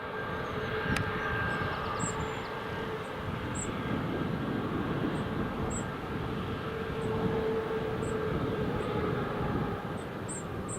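An EasyJet airliner lining up on the runway at Newcastle International Airport, its engines giving a steady distant roar and hum that holds level throughout, with no voices.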